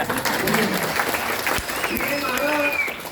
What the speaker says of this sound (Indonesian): Ini malah tepuk tangan.